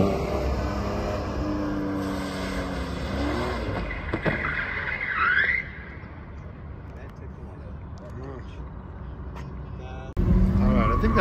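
A Porsche Boxster on a driving course, its engine note rising and falling as it accelerates and brakes, with an instructor talking over the car throughout and a sudden louder burst near the end.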